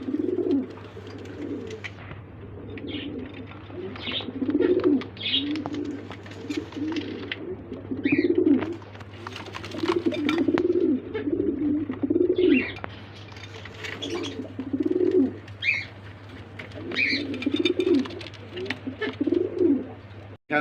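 Pigeons at a pigeon farm coo repeatedly in low, rolling bursts, close and fairly loud, with a steady hum underneath and faint chirps; a cock bird calls excitedly among the flock.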